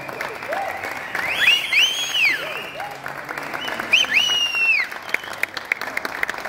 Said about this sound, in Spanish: Fuerte el aplauso para el señor Rafael Inclán.